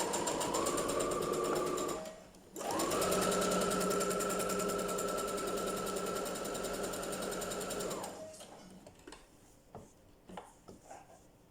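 A sewing machine stitches a three-layer fabric face mask, giving a steady fast whirring hum that pauses briefly while the fabric is turned, resumes for several seconds, then stops, leaving a few soft clicks and handling noises.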